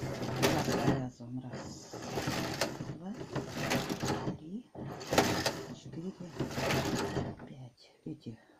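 A Neva 5 knitting machine's carriage is pushed across a row in repeated sliding rasping strokes with short pauses between them, close by.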